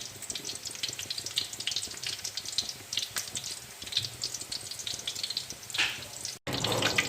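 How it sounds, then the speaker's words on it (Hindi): Onion and spinach pakoras frying in hot oil over a low to medium flame, a steady close crackling sizzle with scattered pops and bubbling, briefly cut off near the end before resuming. "बहुत ही अच्छे से हमने इन्हें लो टू मीडियम फ्लेम पर फ्राई करना है"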